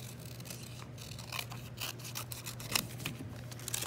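Scissors snipping through folded paper, close and quiet, with a series of short crisp cuts and rustles over a faint low hum, ending with a sharper snip.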